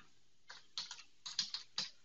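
Keys clatter on a computer keyboard as a value is entered into a filter field in accounting software. Short, irregular bursts of clicks, close and fairly quiet, with no voice.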